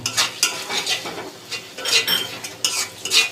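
Mustard spice paste sautéing in a pan as a spoon stirs it in quick bursts, scraping and clinking against the metal over a low sizzle, close and fairly loud, with no voices.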